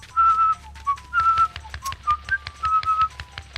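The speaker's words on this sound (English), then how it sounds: "just having a whistle" A single person whistles a lilting tune of short and held notes, clear and close, with a low steady hum underneath.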